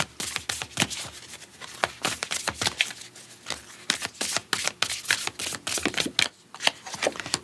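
Tarot or spirit animal cards shuffle close up in quick, crisp riffles and flutters, repeating in an uneven rhythm with short pauses, fairly soft and intimate.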